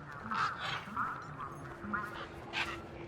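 A large bird in Beyond a Steel Sky gives several loud, raspy squawks and honks at a steady spacing, close by against a low game ambience.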